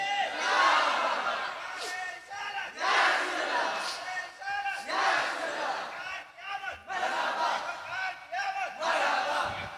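A large crowd at a religious gathering roaring a takbir slogan in unison, five loud chanted bursts in a regular call-and-response rhythm separated by short pauses, with a speaker's voice between them.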